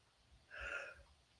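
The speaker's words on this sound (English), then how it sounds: "I'm going to sneeze." One soft, muffled sneeze from a person mid-conversation, with a breathy build-up and a sharp burst at the end; no talking over it.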